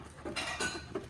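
A spoon stirring a batter-like mixture in a bowl, making a few soft scraping clinks against the sides in short uneven strokes, close and fairly quiet with no talking.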